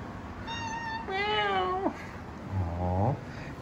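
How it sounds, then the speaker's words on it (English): A domestic cat meows three times, close and clear, each call rising then falling in pitch, with no talking over it. "Titan Cat's hungry."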